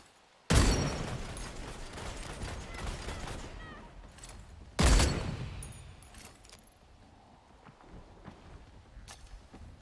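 Gunfire in the battle royale video game Blood Hunt: two sharp, loud shot bursts a few seconds apart, each trailing into a rattling, echoing wash of noise with scattered smaller clicks and pops afterward.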